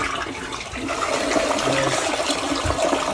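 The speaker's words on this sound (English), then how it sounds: "We can give it a flush and show you the flushing action here." DeerValley one-piece toilet flushing close up, a loud rushing swirl of water that builds and keeps draining through the short stretch, with no talk.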